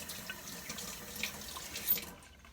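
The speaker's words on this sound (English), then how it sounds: "And wash my hands." Hands washed under a running kitchen tap: a steady soft hiss of flowing water with light splashing, close and quiet, cutting off abruptly near the end.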